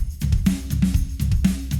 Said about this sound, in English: So now I'm gonna make a track with it, and my friend Joe is gonna lay down some drums, which sound like this.